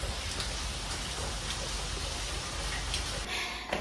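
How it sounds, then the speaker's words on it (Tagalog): Heavy rain pours steadily during flooding in the UAE, a dense, continuous hiss of water drumming on surfaces, loud and close throughout with no voices. "Lalong lumakas yung ulan."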